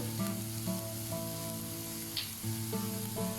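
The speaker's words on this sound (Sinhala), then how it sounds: "අපි යන්තම් මේක ටෙම්පරාදු කරගන්නවා" Tempering spices sizzle steadily in a pan for Sri Lankan vegetable coconut roti, a soft continuous hiss with a light clink of a utensil partway through.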